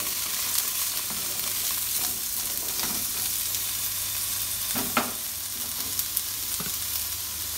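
Steady sizzling and hissing of vegetables stir-frying in a hot wok, with occasional scraping clicks of a utensil stirring, no voices.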